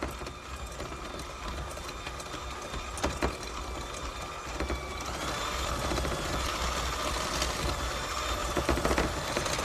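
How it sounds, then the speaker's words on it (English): Electric mixer creaming butter and sugar for a quick coffee cake, a steady whirring motor hum that grows slightly louder partway through, running alone without talk. "I'm just creaming the butter and sugar together"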